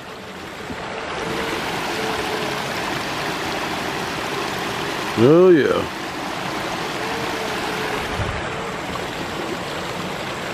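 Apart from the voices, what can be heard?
water flowing down a small man-made waterfall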